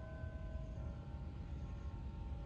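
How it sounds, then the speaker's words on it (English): Faint church bells ring steadily in the distance over the Stephen Foster Cultural Center park in White Springs, Florida, their sustained tones hanging over a low rumble of outdoor background noise. "Beautiful church bells in the background."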